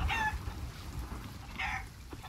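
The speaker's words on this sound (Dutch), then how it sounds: "Huh, een kipje aan boord." Chickens cluck in the Sea of Thieves pirate video game, two short bursts of clucking aboard a ship, moderately close, with quiet gaps between and no talk.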